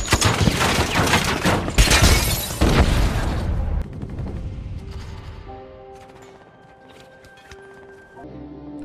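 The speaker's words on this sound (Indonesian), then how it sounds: "Tim bahkan berhasil menembak bis yang membawa senjata super berat." Gunfire from the film 13 Hours: heavy bursts of rapid shots and booming blasts crowd the first few seconds, then fade into quieter scattered shots under sustained musical tones.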